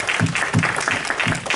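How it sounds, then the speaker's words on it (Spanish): A church congregation claps together in a steady, dense burst of applause, fairly loud and filling the whole short moment. "Fuerte el aplauso para Jesús."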